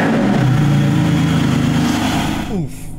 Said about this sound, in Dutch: Nou, laten we hem even starten. Dat is altijd wel een hoop herrie, maar dat is heerlijk.